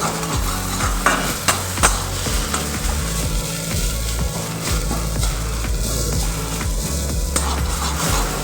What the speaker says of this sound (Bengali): সমস্ত কিছু দিয়ে আমি একটা খুব ভাজা ভাজা করে নেব